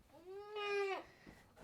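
A goat bleats loudly and close inside a barn converted from an old mobile home before milking, one long wavering cry lasting about a second, followed by quieter barn rustling.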